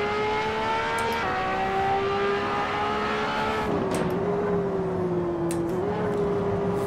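A race car engine in Assetto Corsa holds a high sustained drone, pitch sliding up and down through gear changes and cornering, continuous and up close with no voices.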